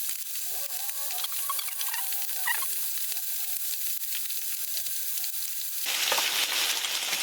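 Teriyaki sizzles and fries steadily in a pan, a close, continuous crackle and hiss, while someone talks over it, and the sizzle swells louder near the end.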